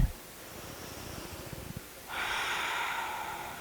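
Deep, slow yoga breath during a deep stretch class, a close, soft exhalation followed by a long, steady airy inhale or exhale rushing through the nose and mouth, alone without talk.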